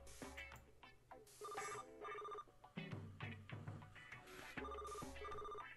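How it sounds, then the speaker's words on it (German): A mobile phone in a video game rings in a repeating electronic pattern of two short bursts, with music underneath. "Adams Handy läutet."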